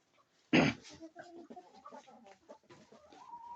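Farm chickens clucking close by, opening with a sharp loud squawk followed by a steady run of softer clucks and calls.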